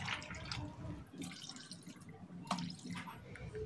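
Water is poured into a bowl of cornflour for a halwa, giving a faint, soft trickling and dripping sound at a low, steady level.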